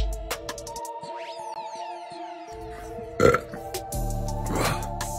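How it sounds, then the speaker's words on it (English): A person lets out a single loud burp after eating extremely spicy food, short and close, over a background of steady electronic music tones, with no talking. "Lava burps."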